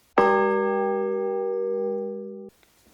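A single bright bell strike rings out clearly, then sustains evenly for about two seconds before cutting off abruptly, alone with no talk.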